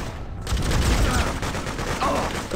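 Dense gunfire rattles through a firefight in the Freedom Fighters video game, a sustained barrage of shots with mechanical clatter, loud and continuous, with a voice briefly talking underneath.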